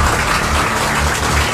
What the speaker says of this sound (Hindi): एक बार जो है जोरदार ताली हो जाए इसके लिए